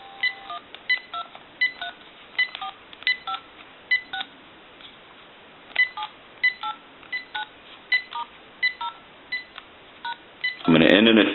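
Touch-tone keypad beeps from a GE 27909EE1-A cordless DECT 6.0 telephone: about a dozen short, clear tones dialed at an uneven pace, ending in a sudden loud burst of noise.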